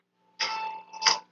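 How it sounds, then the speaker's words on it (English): A church bell rings at night, heard from some distance: one sustained clanging tone with a bright metallic ring, followed shortly by a second louder strike, alone against quiet surroundings. "So what you're hearing now is the bell from the church."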